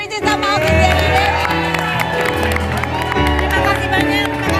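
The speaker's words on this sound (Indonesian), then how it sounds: "Tepuk tangan dong buat Ricis sama Oki Stiana Dewi" Studio audience applause and cheering for Ricis and Oki Setiana Dewi, sisters appearing together on a talk show: a loud, sustained crowd roar with whoops, under bright background music throughout.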